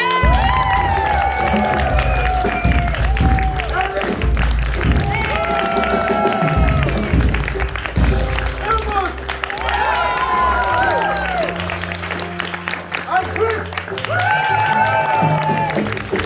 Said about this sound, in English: I want you all to give a warm round of applause to our band tonight.